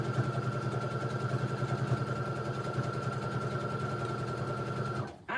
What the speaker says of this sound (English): just sew on the line